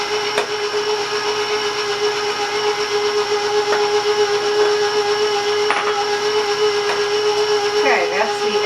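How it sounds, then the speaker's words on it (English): An electric mixer beats prune spice cake batter with a loud, steady, close whine and whir that holds throughout, with a voice speaking faintly underneath. "Now you want to beat this till it's smooth."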